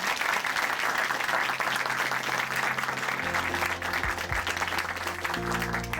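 Church congregation at a testimony program in Chuncheon claps in sustained, dense applause, with a low organ or keyboard chord entering partway through.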